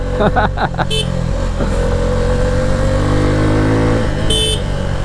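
A Suzuki V-Strom motorcycle is ridden on a rough road with loose gravel and potholes, its engine giving a steady, loud droning hum with a few brief higher mechanical ticks and clicks near the start and end.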